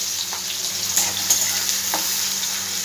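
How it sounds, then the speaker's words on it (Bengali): Chopped onions hitting hot oil with spluttered mustard seeds for a bitter gourd (korola) dish, giving a steady close sizzle with a few stirring scrapes and small pops. "এবার এর মধ্যে আমি কুচো করে রাখা পেঁয়াজগুলো সব দিয়ে দেবো।"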